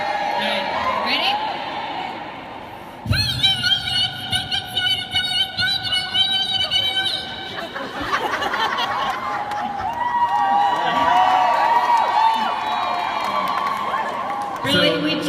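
A convention panel audience at a London fan event cheers and whoops in a loud, rolling wave that swells and dips over several seconds, with a speaker's voice heard through the noise.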